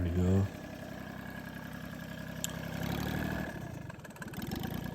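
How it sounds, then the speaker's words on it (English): A John Deere Gator 6x4 utility vehicle engine, running with its exhaust removed, idles loudly up close and gets blipped through a few revs, with a brief voice at the start. "it's me just playing about with the revs"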